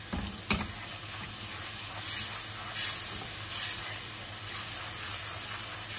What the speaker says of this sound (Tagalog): Pag nag-melt na yung ating butter, lagay na natin itong ating garlic.